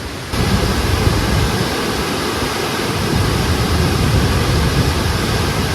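A strong river current rushes in the rain, a loud, steady roar of flowing water that starts abruptly and then holds constant and close.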